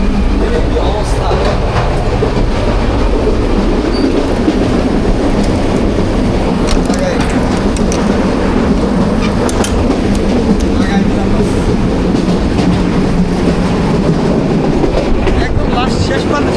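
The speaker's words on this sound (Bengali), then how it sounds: "আমি এখন ট্রেনের মাঝখানে আছি।" The Dolonchapa Express runs at speed between Santahar and Rangpur in Bangladesh, a steady loud rumble of wheels on rails with rhythmic clickety-clack and rattling carriages heard from inside, with a voice speaking over it.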